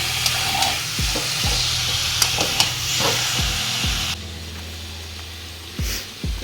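Mutton pieces stirred and fried with spices in hot oil, a loud continuous sizzle broken by repeated scraping strokes of the spoon against the pan.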